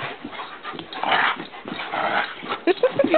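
Dogs playing and wearing out, with whimpers, yips and low growls scattered through scuffling noise, a few sharp higher yelps near the end, under some background voices.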